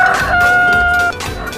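A rooster crows loud and close in one sustained call lasting about a second, then stops, with no voices.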